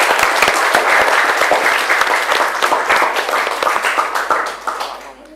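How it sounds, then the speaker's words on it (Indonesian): Students in a junior high social studies classroom clap together after a group discussion, a close, loud burst of distinct hand claps with some rhythmic sync that fades and drops off near the end. "Tepuk tangan untuk kita semua."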